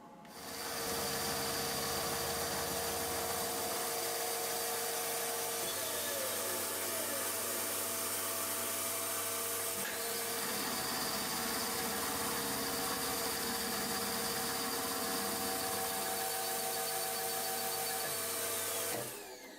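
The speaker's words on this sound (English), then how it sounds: "I'm going to put it on the bandsaw, chop it off" Bandsaw chopping off a machined metal part for a hit and miss engine governor, a steady loud whirring motor drone with the blade's grinding cut shifting in tone as it works through.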